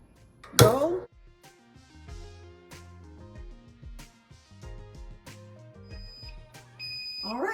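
A heat press, used to sublimate onto slate, beeps repeatedly in short electronic tones, alongside a brief harsh burst and some clatter, with speech in the background.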